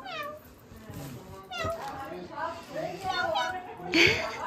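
An adult voice imitates a cat's meow, repeating a string of sung-out meows in a home setting, with household background noise around it.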